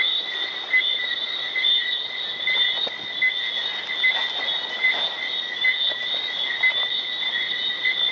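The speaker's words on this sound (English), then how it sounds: "hunt for some of the tree frogs that you can hear piping during the evenings" A dense nighttime chorus of tree frogs in Antigua, high shrill piping pulsing steadily and continuously, loud and close, with no voices.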